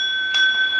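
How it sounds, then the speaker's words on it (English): A doorbell rings in a home, a steady two-tone electronic chime with sustained tones and a brief brighter strike near the middle, heard clearly and alone. "Oh, that's the doorbell."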